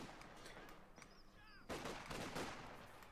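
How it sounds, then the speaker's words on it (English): Gunfire rings out in the video game Company of Heroes 2: a faint distant skirmish that swells into a sudden denser burst of rapid shots. "First shots fired here."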